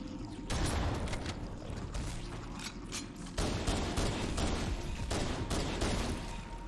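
Gunfire in a first-person shooter game level set in a library, dense rattling bursts of shots with mechanical clatter, fairly close and continuous, with no talking.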